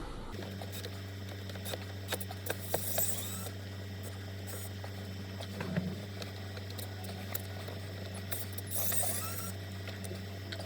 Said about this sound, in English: the next step is to remove the screws, the self-tapping screws on both sides